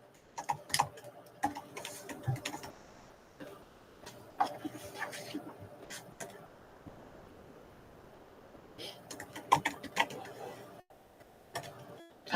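Rapid irregular clicking of keys in bursts during a committee meeting, moderately close, with brief pauses between runs and a quiet room hum underneath.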